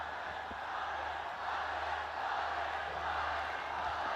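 Steady crowd roar from spectators at a Champions Cup 2024 cricket match between Allied Bank Stallions and Nurpur Lions, a continuous distant wash of cheering with no clear peaks.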